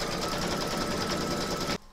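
An embroidery machine stitches an in-the-hoop heart banner design, a loud, even, rapid needle whir that holds steady and then cuts off abruptly near the end, with no voices.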